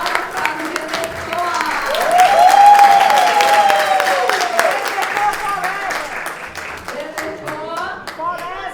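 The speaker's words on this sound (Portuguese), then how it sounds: "Palmas para o GT" Audience members at an academic round-table event applaud in a steady, full round of clapping, while a voice speaks over the middle of it.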